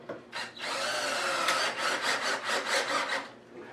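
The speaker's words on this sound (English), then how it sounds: "I run one in, and I screw it to this board" A drill drives a screw into a wooden board with a short opening burst, then a steady grinding whir broken into quick rhythmic pulses as the screw bites, close and fairly loud, ending abruptly.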